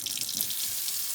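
Water runs steadily from a sink tap, a constant close splashing rush that holds evenly throughout.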